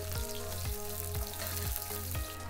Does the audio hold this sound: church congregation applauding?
no